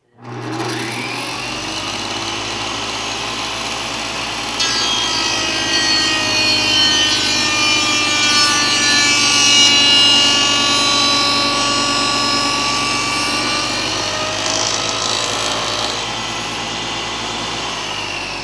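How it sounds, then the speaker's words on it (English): A table saw feeds wood through a jig to cut a spline kerf, its blade giving a loud sustained whine that rises and deepens as the cut engages, then holds steady for most of the run before easing off. "holding the saw down, holding the jig down in the saw, and I'll feed it through this blade"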